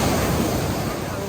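Sea waves at a sunny beach, a loud, close, continuous rush of surf mixed with wind buffeting the microphone, with no distinct voices standing out.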